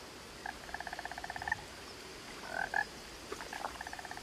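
A loud frog croaks in the video game What Remains of Edith Finch, sounding as rapid, evenly pulsed trains of croaks, with one long run followed by shorter bursts and pauses against a quiet ambient background.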